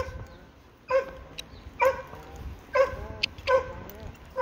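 A dog barks in four short, sharp bursts spaced about a second apart, close by, with quiet outdoor background between them.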